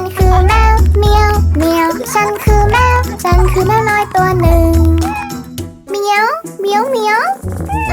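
Sung "meow" imitations in a Thai children's song, a child-like voice repeating cat cries in a bouncy rhythm over loud music with backing vocals.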